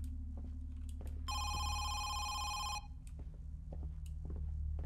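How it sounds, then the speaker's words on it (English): Telephone ringing in the horror video game Home Sweet Home: a single bright electronic ring lasting about a second and a half, moderately loud over a low ambient drone with scattered faint knocks. "phone is ringing."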